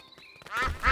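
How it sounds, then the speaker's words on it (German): Cartoon ducks in a children's animated show quack loudly in two close bursts after a brief quiet lead-in with faint tones. "Die Enten laufen über die Farben von Papa Wutz."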